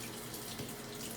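Water from a sink tap runs steadily as blue shampoo is rinsed off a cat during a bath with sulfur lime dip treatment for feline ringworm, a soft, even splashing rush close by with no talk.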